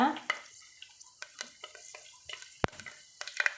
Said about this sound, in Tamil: வெந்தயம் கடுகு பொறிஞ்சு வரட்டுங்க